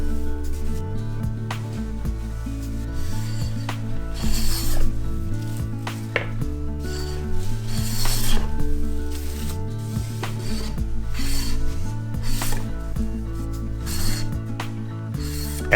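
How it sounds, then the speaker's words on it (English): A Japanese carpenter chamfers the underside of a wooden stair tread with a hand tool, making close, rhythmic rubbing and rasping strokes that repeat steadily in a regular pattern over about sixteen seconds, with no voices. "Chamfer the underside diagonally at the place where the riser will be attached."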